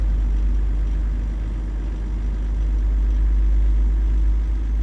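A truck engine climbs a hill in American Truck Simulator, a deep, steady low rumble held at near-constant revs under load, loud and continuous without a break.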